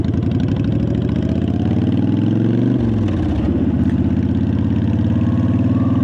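Honda Fury motorcycle engine running steadily, a loud, close, even low throb with a brief dip in pitch midway, alone without talk.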